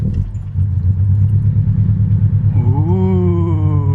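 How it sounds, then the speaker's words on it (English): An automatic Scion FR-S with an Edelbrock supercharger starts up and settles into a loud, close, steady idle, then gets a quick rising rev near the end. "First startup in the boosted FRS."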